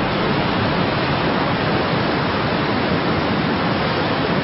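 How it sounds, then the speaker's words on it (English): Fierce winter waves of the Japan Sea pound the Echizen coast in Fukui Prefecture, a loud, unbroken roar of surf filling the whole stretch with no voices. "This is the Echizen coast in Fukui Prefecture, battered by the fierce waves of the Japan Sea and by frigid winter winds."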